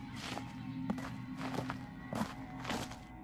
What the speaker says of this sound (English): That's definitely footsteps that aren't mine, okay? My footsteps were not that loud.